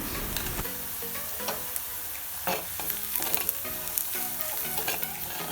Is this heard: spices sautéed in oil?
yes